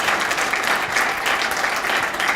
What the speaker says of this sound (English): Let's give another round of applause for our guest speakers.